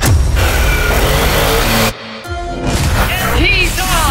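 A Yamaha Sniper155 motorcycle speeds off in a loud, continuous engine roar that briefly drops out, then returns with rising revving; a voice talks over it throughout.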